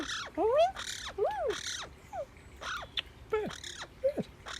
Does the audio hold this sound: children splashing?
no